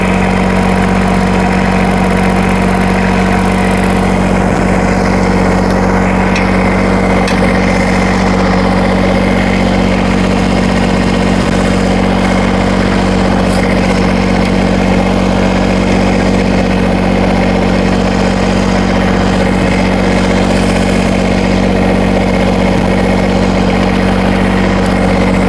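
Kubota BX compact tractor engine idling close by, a loud, steady diesel drone with a constant low hum and vibration that holds unchanged throughout, with no talk.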